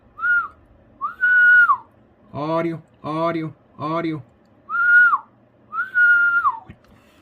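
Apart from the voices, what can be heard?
person whistling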